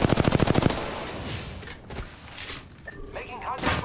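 Rapid automatic gunfire from the video game Overwatch bursts loud and close at the start, then gives way to softer thuds, mechanical clatter and scattered in-game effects.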